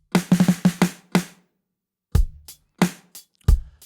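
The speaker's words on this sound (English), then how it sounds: "right before our hook sections, we get a little snare roll" Short snare roll leading into the hook of a song, a quick cluster of crisp hits followed by a pause and a few sparse, punchy drum strikes, isolated and close.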